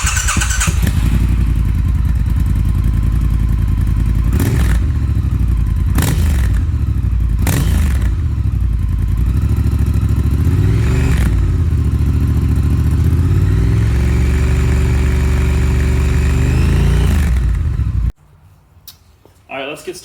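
A Triumph Thruxton R motorcycle fitted with cone slip-on mufflers rumbles loudly up close, idling with several sharp throttle blips and revs before the engine cuts off near the end.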